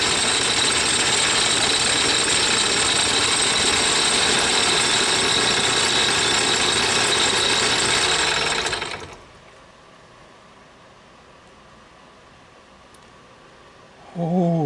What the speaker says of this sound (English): I'm going to cut the shank down until I get it to the right size for my roller wheel to fit on there